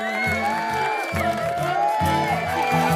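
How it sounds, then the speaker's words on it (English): A large cartoon crowd cheers and roars in a continuous loud wash, with sung or chanted voices and music running over it throughout. "Look at all these wonderful people cheering for us!"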